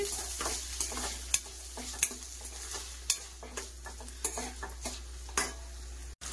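Onions frying in hot oil in a pan, a soft steady sizzle broken by regular knocks and scrapes of a spoon stirring against the pan, quiet and close, no talk.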